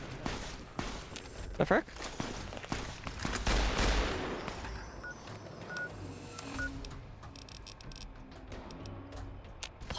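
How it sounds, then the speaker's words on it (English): Gunfire from an NCR and fiends fight in Fallout: New Vegas: scattered shots and bursts that crack over a busy game soundscape, loudest early on and then thinning out, with a brief spoken exclamation. "it's the NCR and the fiends fighting"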